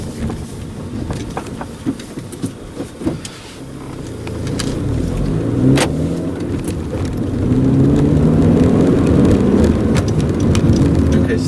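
A 2014 Honda Civic Si with a 2.4-liter inline four-cylinder engine drives along with a steady engine hum and road roar that swells as it picks up speed, with occasional clicks and rattles inside the cabin.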